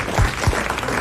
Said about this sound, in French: nous les envoyons à Madame Masson, que nous applaudissons.